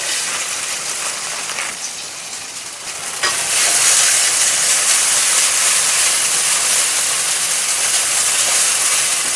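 Nissin yakisoba noodles, with no other ingredients, frying at high heat until slightly charred: a loud, steady hiss and sizzle that swells stronger after a few seconds and carries on unbroken, close to the pan.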